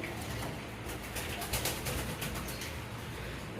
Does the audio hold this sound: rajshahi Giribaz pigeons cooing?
yes